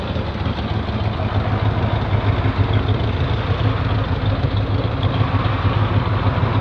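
A 1979 Chevrolet Corvette C3 with an aftermarket air intake idles with a steady, deep exhaust rumble, close and continuous, and nobody talks over it.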